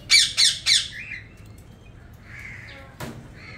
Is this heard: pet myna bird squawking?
yes